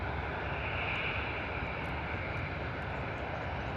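Airliner taxiing into a stand at an airport gate, a continuous loud engine roar with a steady high whine on top, heard from a short distance without any talk.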